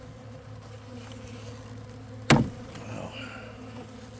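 Bees hum softly around an open hive during an inspection after the queen has left, a steady low drone close by, interrupted by one sharp knock midway.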